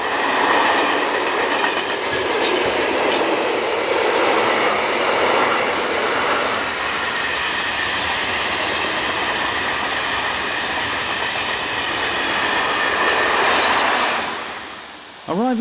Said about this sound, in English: Approaching the station from the south is class AE66 number 11427 with train number 50635 from Lausanne to Zurich.